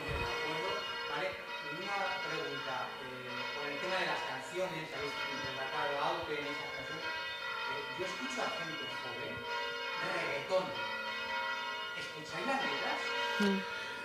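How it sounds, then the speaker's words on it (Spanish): Church bells ring in a long, sustained sequence of overlapping metallic tolls, fairly faint and continuous, while people's voices murmur underneath. "es que esto es terrible, las campanas estas"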